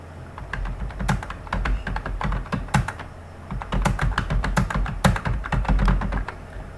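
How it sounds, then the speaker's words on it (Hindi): Data being typed into a Microsoft Excel sheet on a computer keyboard: steady, close clicking keystrokes with a few short pauses and no one speaking. "यदि किसी रो में हम कुछ ज़्यादा डाटा टाइप करते हैं"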